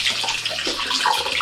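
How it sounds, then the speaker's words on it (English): Boiling water from a kettle pours steadily over vegetables inside a slow cooker, a continuous close gushing splash that runs without a break for the whole moment, with no talking. "Now I'm going to add boiling water to this."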